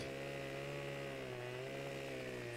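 A chainsaw cutting a tree in the Farming Simulator 15 video game, a steady close buzzing drone that holds even throughout with no pauses or talk.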